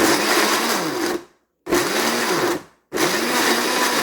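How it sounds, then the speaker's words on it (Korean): A blender grinds sliced ginger, whirring loudly in three bursts, each cut off by a short pause, grinding steadily with a high motor whine. "요거는 썰어가지고 믹서기에 갈아줄 겁니다."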